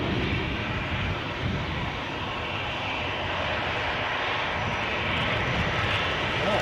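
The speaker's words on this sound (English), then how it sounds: "we have an easyJet down off the Stansted at 1820." An easyJet airliner arriving from Stansted at Edinburgh airport produces a loud, steady broadband engine roar that fills the whole span, heard from fairly close outdoors with no clear speech over it.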